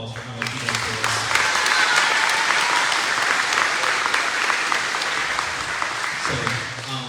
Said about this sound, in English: So we can give him a real quick round of applause for how much he does for us.